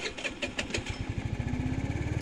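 A gasoline scooter engine cranks and catches while the brake is held, a few uneven starter pulses settling into a fast, steady idle putter close by.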